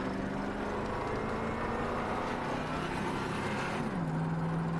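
A truck engine running rough as it starts to run out of fuel, a steady close drone with a rising and falling note that sags lower near the end, heard alone without talk.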